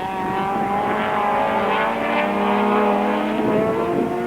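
Supertouring race cars roar past together on the East London circuit in 1994, several engines droning loud and close at high revs with a steady sustained blare.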